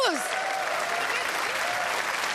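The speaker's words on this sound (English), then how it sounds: "Give him a round of applause." A crowd claps steadily for a couple of seconds, with a few tonal whistles or cheers rising over the applause.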